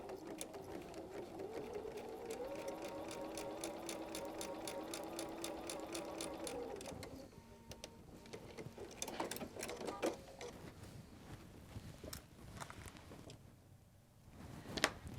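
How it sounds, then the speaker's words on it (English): A sewing machine stitches a quarter-inch seam on quilt fabric, a rapid, even mechanical chatter for about seven seconds, then stops and starts in shorter bursts with handling clicks and rustling, fairly faint. "we're going to sew with our 1/4 inch"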